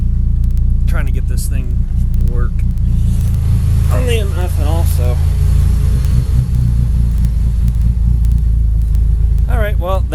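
A methanol-injected 420a performance engine idles to cool down after two-step runs, giving a loud, steady, deep rumble throughout while someone talks over it.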